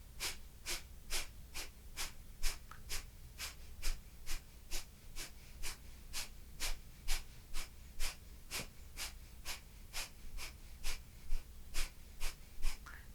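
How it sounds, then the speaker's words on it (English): Forceful, rhythmic exhales in a breathing meditation, about two sharp nasal puffs per second, close and steady, continuing evenly throughout. "Keep exhale, exhale, exhale."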